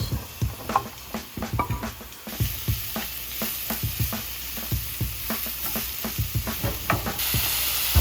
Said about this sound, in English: Now that I've got my onions and garlic going, I'm gonna go ahead and add my mushrooms.